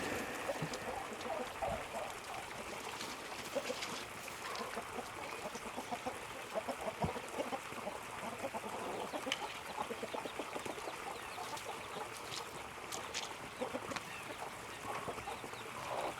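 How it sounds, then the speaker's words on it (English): Backyard chickens clucking and murmuring nearby, with several birds making scattered soft clucks and short calls over a continuous outdoor background. "Let me get my chickens out here,"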